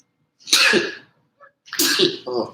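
Two sharp sneezes from one person, close and loud, separated by a short pause, with the second followed by a brief throaty exhale, heard during a casual chat about the opening Premier League matchday.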